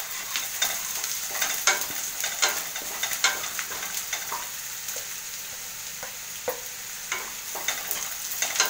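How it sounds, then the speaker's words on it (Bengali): Chopped onion, garlic and ginger fry in a pan, giving a continuous light sizzle broken by frequent sharp scrapes and clicks as the mixture is stirred, close and alone. "পেঁয়াজটা একটু ভাজা ভাজা হয়ে গেছে, এবারে দেব আমি রসুন, একের পর এক দিয়ে দেব রসুন, রসুনটা একটু ভেজে দেব"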